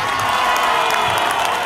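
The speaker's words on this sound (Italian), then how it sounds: "Scusate, fate un applauso a chi mi odia" A crowd in an outdoor town square at a political rally in Novafeltria, Rimini, claps and cheers in a dense, steady roar of applause that stays loud and close throughout.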